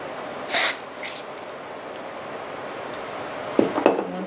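Super glue activator spray is released in a short, close hiss near the start, followed by quiet room tone and a few faint handling clicks and rustles.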